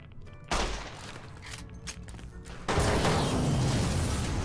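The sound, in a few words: gunfire in the video game Fallout New Vegas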